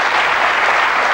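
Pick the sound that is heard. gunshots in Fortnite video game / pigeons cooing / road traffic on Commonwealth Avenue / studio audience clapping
studio audience clapping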